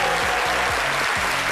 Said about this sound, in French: qu'on puisse l'applaudir très, très, très fort